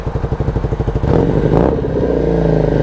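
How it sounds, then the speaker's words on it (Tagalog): A Fekon Victorino 250i with a 250cc V-twin engine idles with a loud, lumpy pulsing beat up close, then the revs rise into a steadier, fuller growl. "Tunog big bike ano, 250cc pero parang tunog ano, tunog Harley."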